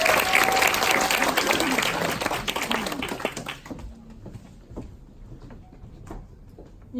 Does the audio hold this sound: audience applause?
yes